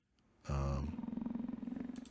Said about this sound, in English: that sounds like a jaguar